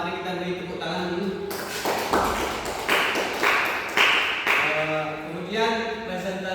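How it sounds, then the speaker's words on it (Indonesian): A classroom of students bursts into a few seconds of clapping for a classmate's good answer, the applause rising between stretches of a teacher's talking before and after. "Mari kita beri tepuk tangan dulu."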